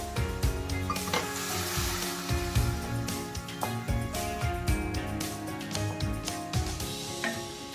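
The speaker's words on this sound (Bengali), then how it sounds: "দেখছেন নেড়ে নেওয়ার পর অল্প করে করে জল দিয়ে মশলাটা ভালো করে কষে নেব।" Masala paste for dalia cooking in a pan over a low flame, sizzling steadily while a spoon scrapes and knocks against the pan in frequent irregular strokes, close and fairly loud, with no one talking.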